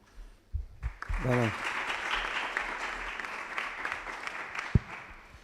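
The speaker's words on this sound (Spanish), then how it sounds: "un fuerte aplauso para el alcalde de Chiclana" A crowd, including visiting school students, breaks into loud applause for the mayor of Chiclana at a talk on salt-marsh restoration, swelling quickly after a brief voice and continuing steadily with a single sharp knock near the end.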